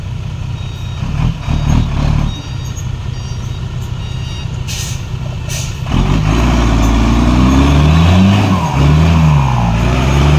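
A dump truck hauls soil out of a pit while reversing, with steady repeating backup beeps over a loud diesel rumble that deepens and swells into heavy revving in the second half.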